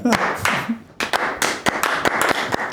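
One person claps hands unevenly, a series of sharp close slaps with irregular gaps, mixed with bits of speech and laughter at a sports talk show.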